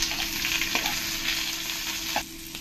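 Onions fry in a pan of hot oil with whole dried chillies and bay leaves, a close, steady hiss of sizzling with a faint scrape or two, easing slightly near the end, no voices.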